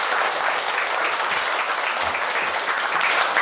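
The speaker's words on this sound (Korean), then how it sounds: "박수 부탁드립니다" Sustained applause from an audience at a lecture event on local autonomy and decentralization, a thick, even wash of many hands clapping throughout.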